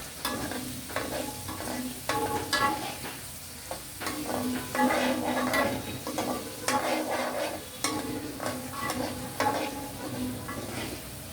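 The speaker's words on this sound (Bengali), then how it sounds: "চিংড়ি মাছ বেশিক্ষণ ভাজি করতে হয় না, আঁচটা একদম কমিয়ে দিয়েছি আমি" Prawns (chingri) fry in a pan on low heat, giving a continuous sizzle with repeated stirring scrapes and spatula knocks against the pan, fairly close and steady, with no voices.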